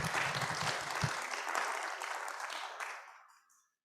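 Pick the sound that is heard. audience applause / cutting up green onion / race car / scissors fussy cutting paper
audience applause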